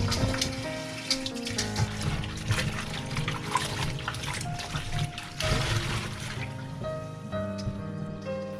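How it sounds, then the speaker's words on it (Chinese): Cauliflower rinsed in clean water in a kitchen sink, with close running and splashing water, trickling and sloshing steadily throughout as the florets are washed by hand. "然后用清水清洗几遍"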